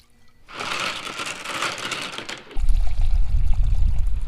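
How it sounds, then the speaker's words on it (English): Sea Foam cleaner poured into a flat container holding engine rockers from a 3000GT VR4 6G72 twin-turbo head, a bright splashing stream that shifts midway into a deeper, fuller gurgle as the level rises, close and alone. "Now I'm going to use a little bit of sea foam and then I'll fill it up with diesel the rest of the way."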